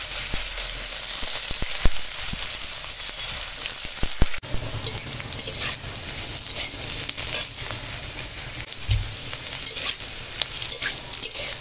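Bitter gourd and potato sizzle and crackle loudly in hot oil with five-spice seeds, with occasional scraping and knocks of a spoon stirring the pan, close and continuous, no voices.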